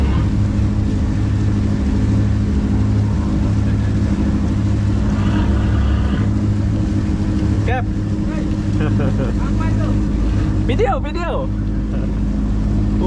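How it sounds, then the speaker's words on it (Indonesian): Dolphin 3, a large ferry making the crossing from Pasir Gudang to Batam Center, maneuvering in to dock: a deep steady engine rumble with layered low drone, close and loud, while people talk nearby. "Oh, besar kali kapal dia ini."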